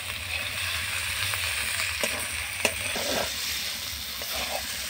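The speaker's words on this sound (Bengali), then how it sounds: "এইভাবে নেড়ে নেড়ে টমেটোগুলোকে সিদ্ধ করে নিতে হবে।" Tomatoes being stirred and boiled down in a pan for a spiced meat dish give a steady close sizzle and bubbling, with a few sharp scrapes and clinks of a utensil against the pan, with no talk.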